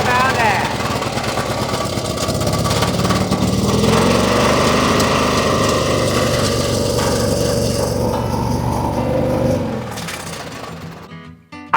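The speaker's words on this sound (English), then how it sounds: "this tractor started, and right now it's not on my last nerve" John Deere 116 lawn tractor engine running steadily after starting, a loud close buzzing drone that holds for several seconds before winding down, with someone speaking briefly.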